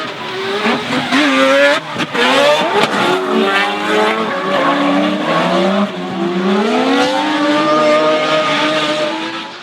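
Drift cars rev hard and close: a Red Bull Mazda RX-7 and the V-Energy Nissan Skyline at a D1NZ championship round in Taupo. Engines climb and fall in pitch through continuous loud wails, with tyre squeal mixed in.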